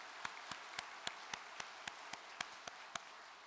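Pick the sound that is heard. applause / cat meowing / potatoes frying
applause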